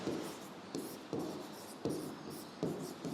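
A teacher in a chemistry lecture writes on a board, making four or five scratchy chalk-like strokes in an irregular rhythm, close and moderately loud, with brief pauses between them and no talk.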